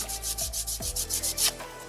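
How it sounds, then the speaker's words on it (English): Sandpaper scrubbed back and forth over a small soapstone butterfly carving: steady rhythmic rasping strokes, about nine in under two seconds, close and fairly loud, with no talk. "run that back and forth so you're sanding both sides at the same time"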